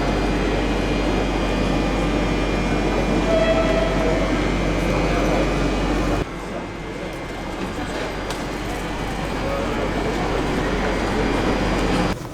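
Continuous rumble and rolling noise inside a train riding to Colmar, France, on a cold winter morning, with a deep low drone, a sudden drop in level midway, then steady running noise.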